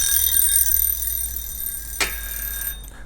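A worn-out kitchen timer's alarm rings continuously as a shrill, high metallic buzz, steady and fairly loud, with a brief knock partway through before it cuts off near the end.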